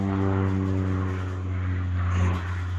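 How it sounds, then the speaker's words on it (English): Crop-spraying airplane passing over a farm field, a steady low propeller drone with a sustained engine hum that swells slightly near the end, heard at a moderate distance without talk. "that plane in the background. They're spraying one of our fields."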